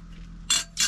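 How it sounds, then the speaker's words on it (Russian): Cutlery scraping and clinking in a frying pan as fried burbot is poked at in a taiga forest cabin, two bright metallic clinks close by over a low steady background hum. "ковыряюсь тут вон в сковородке"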